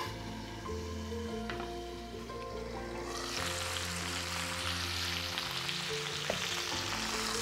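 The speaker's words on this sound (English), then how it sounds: "we're gonna let those sear for just a few more minutes, flip them" Thick elk steaks searing in a hot pan give off a steady, close sizzle that swells and brightens partway through, with no voices over it.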